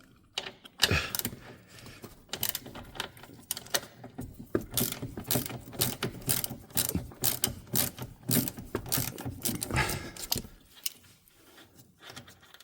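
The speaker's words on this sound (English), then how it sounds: "A ratchet wrench is easier than a ratchet socket." Ratchet wrench clicking as it backs out a 10mm bolt on a Mercedes W463 rear door, close rapid ratcheting bursts repeating steadily, with no talk.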